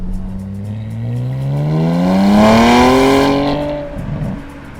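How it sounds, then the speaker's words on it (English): The V6 engine of a 2018 Porsche Panamera 4S Sport Turismo revs up steadily, pitch climbing to a loud peak before easing off, with a rough, throaty tone and no talking. "I actually prefer the sound of this V6 to the V8. I mean, just have a listen to it."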